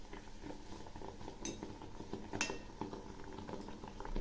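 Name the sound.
malpua frying in oil, being flipped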